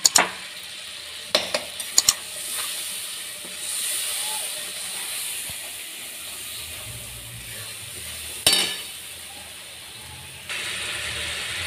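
Cumin, turmeric and chili powders with ginger paste stir-fry in a pan, giving a continuous steamy hiss and sizzle broken by a few sharp clanks of utensils near the start and middle.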